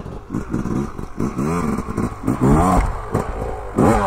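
A KTM 150 SX motocross bike rides over a small jump on a dirt track, its engine revving up and down loudly and close by in several surging bursts.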